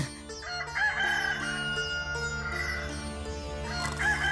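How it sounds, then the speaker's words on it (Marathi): A rooster crows at daybreak, its drawn-out calls repeating over a busy, tonal background that stays at a moderate level. "सकाळ होऊन कोंबड्यांनी बांग सुद्धा दिली."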